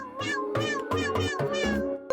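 A cat meowing repeatedly in a fast series of about six close, loud, drawn-out meows with barely any pause between them.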